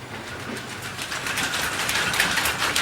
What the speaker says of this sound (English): These things are called looms, they're spinning cloth with. The noise levels are terrific.